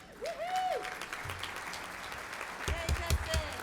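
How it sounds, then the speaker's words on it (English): Applause at a February Rooster Booster community event, moderate clapping spread across the room, with a voice talking over it and tones sliding up and down near the start and end. "let's give a big round of applause"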